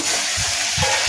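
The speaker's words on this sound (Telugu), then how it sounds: "ఉల్లిపాయలు అయితే ఫ్రై అయ్యామండి." Onions fry in a pan, a loud, dense, close sizzle with a couple of soft stirring thumps in a brief burst, no talking.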